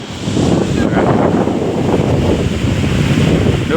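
Strong wind blowing at a beach, a loud, steady roar of gusts buffeting the microphone over the rushing wash of surf, continuous for the whole stretch.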